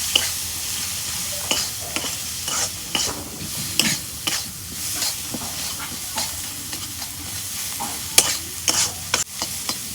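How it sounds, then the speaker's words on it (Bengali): Spices with chopped onion, green chilli, salt, chilli and turmeric fry in oil, giving a loud, constant sizzle. Repeated scraping and stirring strokes land every second or so, up close. "মশলা ভাজে নিলাম তেলের মধ্যে।"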